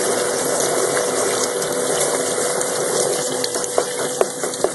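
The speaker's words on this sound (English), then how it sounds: "So the water, this spiral, will walk anything up it, but the water will wash the lighter material down." A spiral concentrator in a portable mill runs with water washing lighter material down the spiral, a steady dense rushing and pumping wash with a few faint clicks toward the end, no talking.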